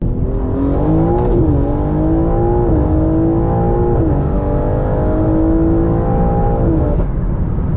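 A 1000 BHP BMW G80 M3 accelerating hard on the road, its engine note climbing through repeated rising pulls with brief shifts between them, loud and close throughout.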